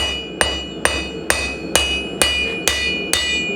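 A hammer strikes the edges of a metal footrest for a custom bar in seven evenly spaced ringing blows, each bright metallic clang decaying before the next, close and loud with no talk.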